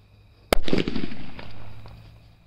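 A chiddi bomb firecracker explodes inside a hole in the ground outdoors: one sharp, loud crack followed by a short fizzing, crackling burst that fades over about a second and a half.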